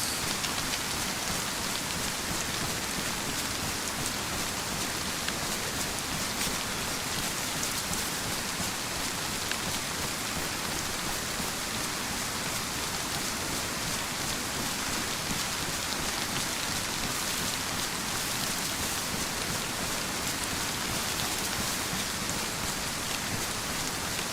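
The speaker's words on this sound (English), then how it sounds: "And of course it's raining again." Steady, heavy rain falls in the DayZ video game, a continuous dense patter on surfaces that stays even and loud throughout, with no voices.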